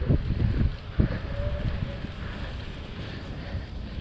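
Cold sea breeze roaring across the microphone of a bicycle helmet camera on a beach ride near Santa Monica, continuous low buffeting with a couple of sharper thumps early on.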